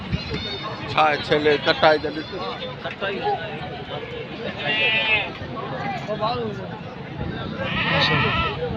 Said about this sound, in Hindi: ये बकरा है और बकरी है दोनों।